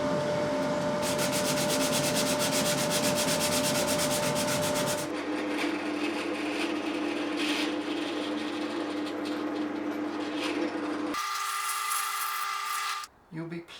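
Guitar wood is sanded across the grain with 120 grit sandpaper, a close, continuous gritty rasp that shifts in tone as the strokes change, with a voice talking over it.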